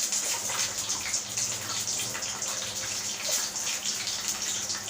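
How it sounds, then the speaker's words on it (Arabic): Hot taro and chard soup pours steadily in a continuous liquid rush, close and moderately loud, with no talk over it. "نحطه بقى كده، حطيه بالراحه عشان الشوربه سخنه"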